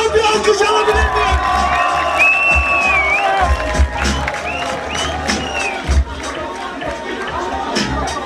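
A crowd at a freestyle rap battle final applauds, cheers and whoops loudly and steadily, a dense roar of clapping and shouting voices with occasional louder bursts throughout.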